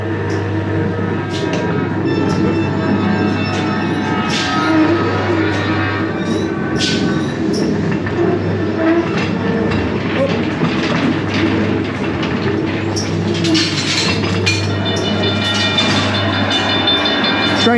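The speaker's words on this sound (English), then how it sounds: "Trains come in." A dark ride train at Blackpool Pleasure Beach rolls in, a steady loud rumble with clicking wheels and a low hum throughout, occasional squeaks and clanks on top, and no talking.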